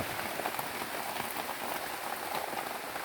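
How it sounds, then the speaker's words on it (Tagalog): Steady rain pours down on a mountainside where pili nuts are gathered, a dense even hiss of drops drumming on surfaces throughout, with no voices. "Ngayon lang umulan dito kaya samantalayin natin yung ulan."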